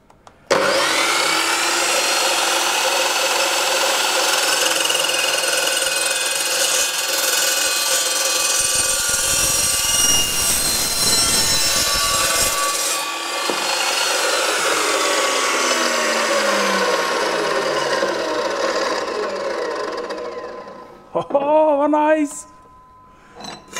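A metal cut-off saw cutting through metal gives a loud, sustained high-pitched whine and grinding for about twenty seconds, then spins down to a stop, with brief speech at the end.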